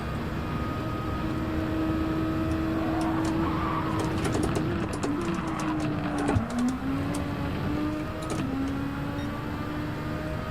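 Race car engine in Gran Turismo 7 drones steadily with shifting pitch and gear changes, tyres squealing briefly as it rolls through a corner on track, no talk.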